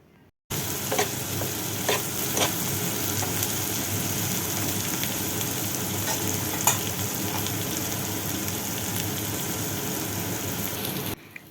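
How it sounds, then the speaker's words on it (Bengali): Soaked peas fry and get stirred in a hot pan, giving a steady, close sizzle with a few sharper scrapes and clicks from the stirring, and no talking throughout. "মটরটা দেওয়ার পরে একটু নাড়াচাড়া করে"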